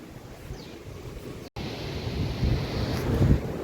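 Strong wind buffets the microphone at a seashore near a temple while waves roll and surge, building louder toward the end with a brief dropout midway; no voices.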